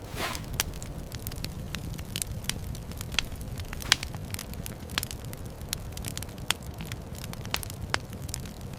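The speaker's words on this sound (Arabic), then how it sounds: "النار دي حلوة جدا" Campfire crackling in an animated forest scene, with a steady low rumble of flames and frequent sharp pops and snaps scattered throughout, no voices.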